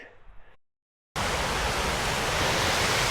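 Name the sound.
mountain waterfalls, cascades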